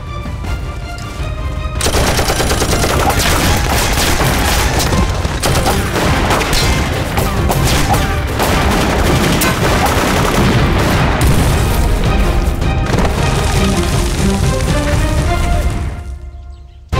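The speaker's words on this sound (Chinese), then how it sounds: "刚才枪声这么密，不知哪支小队跟鬼子撞上了" A war film scene fills with dense, continuous gunfire: rapid machine-gun bursts and rifle shots with heavy booms, loud and sustained for over ten seconds before tapering off.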